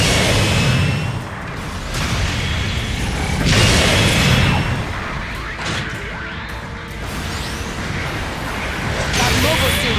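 In Gundam Battle Operation 2, supporting fire explosions crash and boom heavily across an abandoned city battlefield, with whooshes and impacts rising and falling in dense loud waves beneath continuous combat noise.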